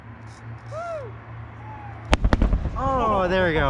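A distant SpaceX rocket launch roar arrives as a few sharp, crackling bangs and then a sustained rumbling roar, while people nearby talk excitedly.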